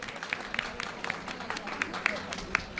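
Audience applause at a gathering honoring Acharya Manish, steady mid-level clapping with sharp individual claps over a busy room.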